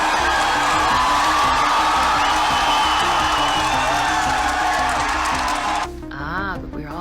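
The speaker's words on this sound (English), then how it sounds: "clapping and screaming and shouting like this" Dense crowd cheering, whooping and shouting with clapping mixed in, a loud continuous roar that suddenly drops off near the end, leaving a quieter tail with a few voices.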